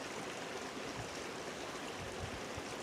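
Steady rushing of a nearby river, a dense continuous wash of flowing water with no breaks and no one speaking.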